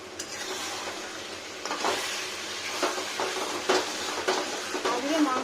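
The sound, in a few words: chicken meat being sautéed in oil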